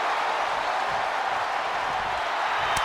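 Crowd noise from a WWE 2K25 wrestling match, a steady broad roar of cheering filling the arena throughout with no break, ending in a brief sharp accent.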